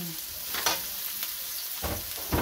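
Onion and garlic sautéing in a pan for beef and broccoli stir-fry, a soft steady sizzle broken by several quick scrapes and knocks of a stirring utensil.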